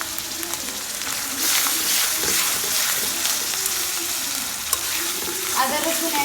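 Ginger and garlic paste sizzles and fries in a pan while a utensil stirs it, giving a steady, loud hiss with scraping strokes throughout.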